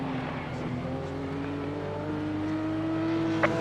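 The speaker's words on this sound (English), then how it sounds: "Here comes a Porsche. I recognize that motor." A Porsche race car in the racing game Assetto Corsa Competizione drones steadily past, its engine note holding a sustained tone and gradually shifting pitch, with a brief click near the end.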